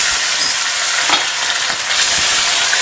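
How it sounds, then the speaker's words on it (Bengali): Fish frying in hot oil in a wok for begun parshe, a loud, steady, close sizzle that hisses without a break, with a few faint clinks. "তেলটা গরম হলে আমি মাছগুলোকে ভেজে নেব"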